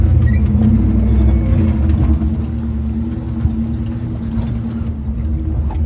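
A Jeep crawls over trail rocks on the Rubicon Trail, a steady low engine rumble with scattered knocks and scrapes from tyres and underbody on stone, close and continuous without talk.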